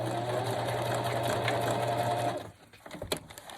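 Sewing machine stitching a zigzag across fabric scraps for a project bag, a steady loud whirring hum that runs for over two seconds then stops, followed by a few faint handling clicks.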